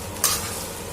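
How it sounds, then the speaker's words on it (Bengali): Cooked rice stir-fried in a pan over raised flame, a sharp scraping toss that swells into a close, loud sizzle and then settles into steady frying, no voices. "আমি কিন্তু ভাতটাকে একটু ভেজে দেবো শুধু, এই জন্য গ্যাসটা একটু বাড়িয়ে দিয়েছি"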